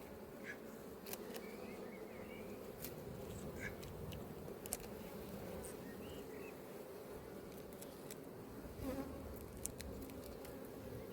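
Honey bees buzz steadily around an open apiary hive during a brood inspection, a dense continuous hum with occasional louder individual bees passing close, faint and even throughout.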